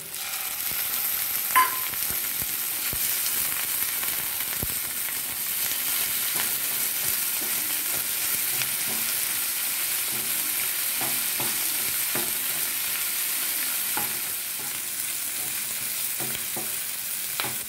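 Prawns fry in a pan with chopped garlic and onion, giving a continuous close sizzle with small crackles and the occasional scrape of stirring.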